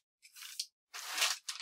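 A large plastic bag being handled for a craft book, three short bursts of crisp crinkling and rustling separated by brief silences, close and fairly quiet.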